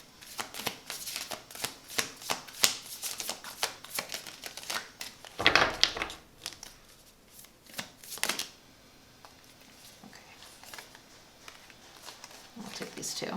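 A deck of Starseed Oracle cards is shuffled by hand in repeated crisp riffles and flutters, close and fairly quiet, with a louder burst midway before slowing to soft handling. Some quiet talk occurs alongside.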